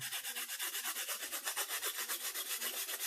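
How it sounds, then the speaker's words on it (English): A charcoal drawing stick scraped back and forth on medium-grit sandpaper, giving a steady rhythmic rasping of about five strokes per second, close and even, with no talking. "Sharpen my charcoal, and I can use the dust. That's sandpaper number 2 or 3"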